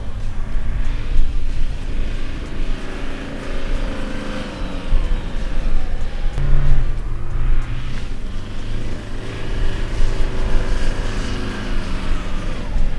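A 2020 Toyota Prado's engine drones steadily while the vehicle drives across soft sand, a loud, continuous rumble with slight surges in revs throughout and no talking.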